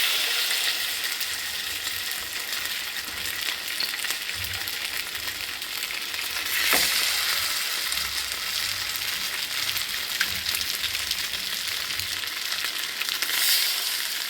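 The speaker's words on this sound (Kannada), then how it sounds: "ಸ್ವಲ್ಪ ತೆಂಗಿನೆಣ್ಣೆ ಹಾಕ್ಕೊಂಡು ಈ ಮೀನನ್ನು ಸ್ವಲ್ಪ ಫ್ರೈ ಮಾಡಿ ತೆಗೆಯುವ" Pomfret fish frying in a little coconut oil in a pan: a steady, close hiss of sizzling oil with faint crackles and a soft clunk partway through, continuous and without talk.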